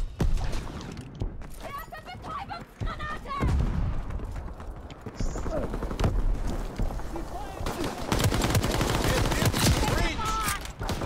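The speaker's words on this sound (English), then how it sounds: "The enemy is busy shooting my ass off." Enemy gunfire in the World War II shooter Call of Duty WWII, dense bursts of rifle and machine-gun fire with booms rolling through a steady battle din, someone talking over it.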